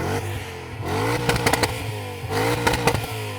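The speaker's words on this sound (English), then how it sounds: "Now let's hear the E39." A BMW M5 E39 at a drag-race meet is blipped repeatedly, with sharp rev rises and crackling overrun pops in two bursts over a steady idle, loud and close with no talk.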